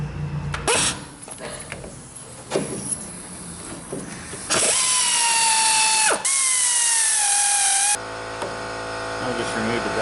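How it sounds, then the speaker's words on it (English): A hand ratchet on a Ford Ranger loosens the two 15 mm bolts that hold a brake caliper bracket to the spindle, with rapid clicking bursts and sharp metallic scraping and squealing from the bolts as they turn, close and loud. "next we're going to take and remove the two retaining bolts that retain this caliper bracket onto the spindle"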